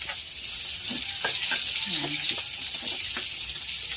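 Onions fry in a hot pan with a steady bright sizzle, broken by a few light utensil clinks and stirring knocks.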